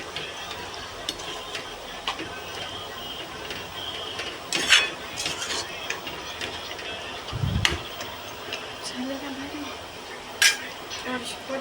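Steady background hiss with occasional metallic scrapes and clinks of a spoon against a pan while stirring chicken sukka with a little water, a few sharper knocks standing out.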